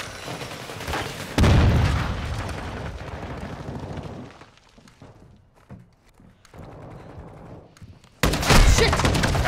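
A Semtex grenade detonates in a first-person shooter match, landing as a loud, close boom with a heavy low rumble that fades off, followed by scattered thuds and then another big blast at the end.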